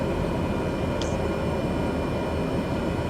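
Cessna 208 turboprop in Microsoft Flight Simulator 2020, a constant loud broadband engine drone heard steadily in the cabin, with a brief faint high chirp partway through.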